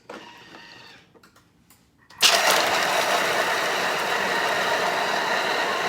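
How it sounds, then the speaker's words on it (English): Thermomix TM6 grinding pistachios, a loud steady whirring grind that starts abruptly after a few soft clicks and runs on at full strength. "if you're using a TM6, you're going to grind this for 10 seconds"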